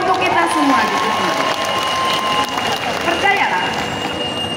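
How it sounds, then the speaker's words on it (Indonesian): Applause and cheering rise from an audience at an Indonesian early-childhood educators' association gathering, a broad sustained clatter of clapping mixed with crowd voices that fills the whole stretch at close, loud level. "Tepuk tangan untuk kita semua di sini."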